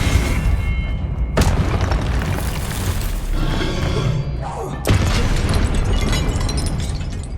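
Confringo spell blasts in the Hogwarts Legacy video game come as loud, dense booming explosions, with sharp new bursts hitting twice and a roaring, crackling wash of noise filling the whole stretch.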